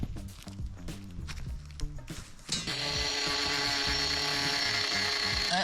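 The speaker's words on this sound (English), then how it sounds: "I'm going to cut some rebar." Angle grinder cutting through steel rebar outdoors, starting abruptly partway through after a few clanks and light knocks, then a loud, steady, continuous high-pitched grinding whine that holds to the end.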